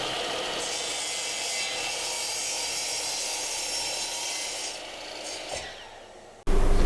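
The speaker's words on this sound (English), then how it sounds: "It's a nice piece of oak. Cutting it to length at the miter saw." A miter saw cuts a piece of oak to length, a steady whining, rasping cut that runs for several seconds. It then fades, and a sudden loud burst follows at the end.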